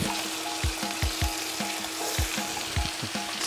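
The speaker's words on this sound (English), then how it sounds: "And you definitely want to hear that sizzle." Veal shanks for ossobuco sizzle steadily in a hot pan, a constant crackling hiss with occasional soft knocks of pieces being placed or shifted.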